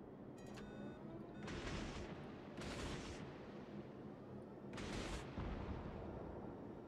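Naval guns fire in the World of Warships game, aboard the Minekaze destroyer: three separate booming blasts roughly a second apart, set over a steady rumbling engine and sea ambience, loud but slightly distant.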